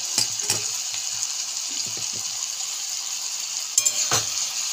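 Small fish tipped into a pan of cooked-down spice paste sizzle and fry steadily, with a few soft clatters of the spatula and fish landing at the start and again near the end.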